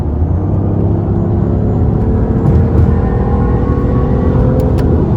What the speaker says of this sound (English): And the car has a lot more get up and go when you switch it to this mode.